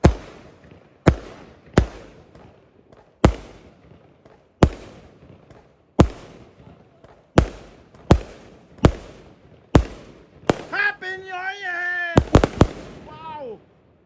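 Sharp New Year fireworks bangs burst one after another at irregular intervals, echoing outdoors, with a cat meowing and a voice near the end.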